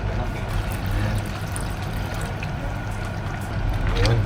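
Water pours steadily into a pot of Filipino chicken arroz caldo, a continuous splashing trickle lasting several seconds with a faint low hum behind it.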